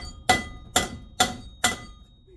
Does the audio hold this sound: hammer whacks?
yes